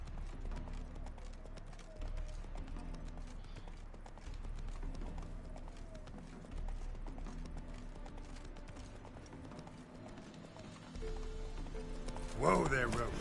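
Horse hoofbeats while riding in The Witcher 3, a steady clip-clop of galloping hooves under near-continuous talk, fairly faint in the mix with a brief louder burst near the end.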